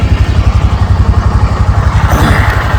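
A motorcycle idles and runs with a steady low engine thrum on a roadside stop after its tyres were inflated, close and loud throughout, with a brief rise in higher noise near the end and no talking.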